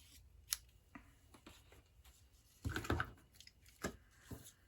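Craft snips cutting through card stock for a floating gatefold owl card, a few short crisp snipping and crunching sounds at close range, with quieter handling noises between them.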